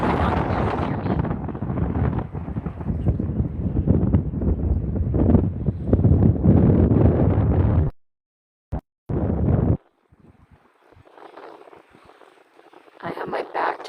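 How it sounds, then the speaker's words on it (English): Strong wind buffets the microphone on the shore of San Diego Bay at Shelter Island, a loud continuous roar that cuts out abruptly, with someone talking during the quieter part. "I have my back to the wind."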